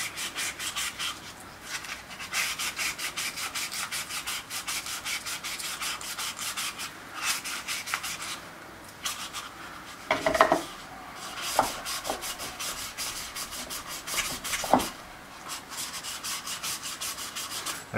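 A boat engine piston is rubbed and polished by hand in circles, producing a close, steady scratchy rubbing in quick repeated strokes, broken by a few brief knocks and pauses.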